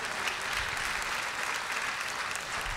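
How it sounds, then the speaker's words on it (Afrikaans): Audience applause for the preacher Eckhart at a church service, a dense, steady wash of many hands clapping together throughout, fairly close and even in level. "kan ons hom nog 'n lekker hande klap gee?"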